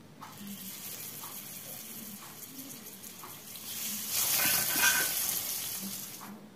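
Pomfret fish frying in oil in a pan for a Bengali fish curry with potatoes: a steady close sizzle and bubbling that grows louder in the middle, then eases off.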